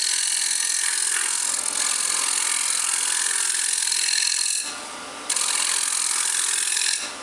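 Hollowing tool cutting inside a wood workpiece spinning on a lathe with an articulated arm hollowing system, a steady continuous scraping rasp that drops out briefly and then resumes, close and loud with no talking.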